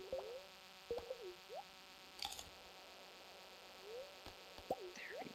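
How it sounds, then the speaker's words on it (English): A buzzing insect enemy closing in during Stardew Valley combat, heard as a faint, thin drone among short chirpy game sound effects, quiet under the mix. "you hear that buzzing noise? That means that there's one of these guys incoming"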